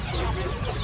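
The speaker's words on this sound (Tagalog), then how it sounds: "Yung mga manok natin" Chickens in a backyard coop beside a house, part of a flock of over a hundred birds, giving a brief burst of clucking close by with a hint of background noise.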